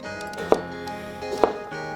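A knife cuts thin slices of dill pickle on a board, two crisp, quiet chops about a second apart against a faint steady background.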